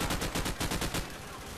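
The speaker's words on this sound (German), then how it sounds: "weil man schießt einfach nur stumpf in die Menge" Rapid automatic gunfire in Call of Duty 4: Modern Warfare, loud bursts of shots in a fast steady rhythm for about a second, then trailing off into a denser, softer clatter.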